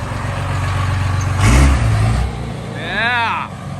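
A Cummins diesel pickup truck revs in a short burst, its deep engine swelling loudly for about a second and then dropping back. People talk nearby before and after the rev.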